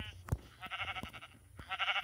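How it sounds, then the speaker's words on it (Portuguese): A sheep in a Minecraft-style video game bleats in two wavering, nasal calls, close and fairly loud, broken up by sharp thumping hits, with no talking over them. "Vou matar essa ovelha aqui."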